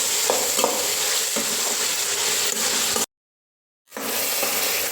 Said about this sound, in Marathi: सर्व जिन्नस एकजीव करून घेऊया.